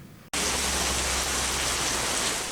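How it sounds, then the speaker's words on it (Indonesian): Heavy rain pours down in Takengon, a dense, loud, close hiss of water that starts abruptly after a brief quieter moment and continues steadily without talking. "di tengah hujan deras yang sedang melanda kota Takengon"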